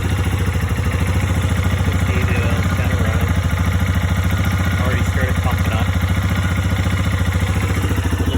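A 2014 Yamaha XT250 dual sport motorcycle idles in neutral at a steady, even rhythm, loud and close, continuous throughout with a mechanical clatter, and no talking.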